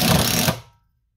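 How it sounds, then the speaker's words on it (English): An Aldi Ferrex impact driver driving a screw into wood, a loud close burst of rapid rattling impacts that stops abruptly after about half a second. "I'm gonna do 5 screws in each one and see how we get on"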